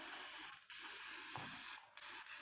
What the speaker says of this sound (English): I'm just going to spray it on the different parts and set them aside and let them set.